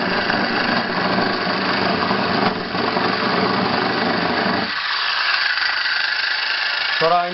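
A handmade solenoid motor runs fast on 12 volts with a loud, dense mechanical buzz that suddenly thins out partway through, ending with a short high squeal.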